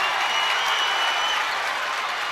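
Basketball crowd at a boys' high school conference tournament game cheering and applauding as fans rise to their feet, a steady loud wash of claps and voices throughout.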